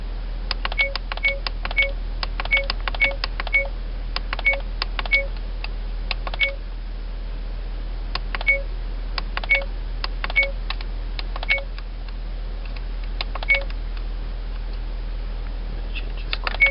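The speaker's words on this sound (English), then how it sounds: "The beep can get really annoying." Short electronic beeps from an AUTO-VOX T6000 dash cam during a settings change, sounding in irregular clusters of quick chirps over a steady low hum, fairly close and moderately loud, with no talking.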